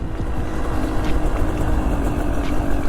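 A Yamaha YZ85 two-stroke dirt bike engine revs hard and steadily during a wheelie, a loud, close, buzzy drone with fast pulsing throughout and no pauses.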